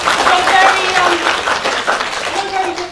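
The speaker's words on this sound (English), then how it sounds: "a round of applause for blackbird" A lecture audience claps steadily as a volunteer is called up to the front. The applause is loud and close, with voices mixed in.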